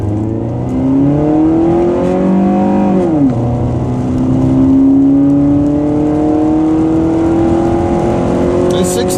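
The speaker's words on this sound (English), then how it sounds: "I guess we'd better do a 0 to 60 dash." A 1992 Honda Prelude 2.0i automatic accelerates hard from rest to 60 in the rain, the engine note climbing steadily, dipping at a gear change, then rising again loudly from inside the car.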